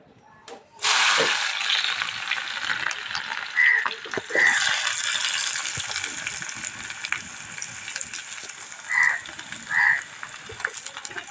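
Green chillies and onion pieces drop into hot oil, setting off a sudden loud sizzle that keeps hissing steadily, with a few short bubbly pops scattered through it.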